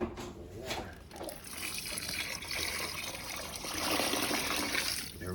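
About half a gallon of water is poured into the pan of a wood smoker to cover a turkey. A continuous, close gushing pour runs throughout, swelling slightly toward the end.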